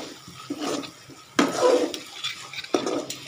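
Bitter gourd being stirred in a frying pan for a bitter gourd and shrimp bhaji, heard as intermittent scraping, sizzling bursts over a low, steady kitchen hiss, with no talking.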